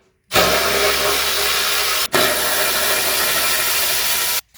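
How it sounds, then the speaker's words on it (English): A loud, close power tool whirs steadily while removing the little 10mm nuts under a Mercedes W116 300SD turbo, stopping once briefly before running again, with no talking. "And then we need to remove the little 10mm nuts under here."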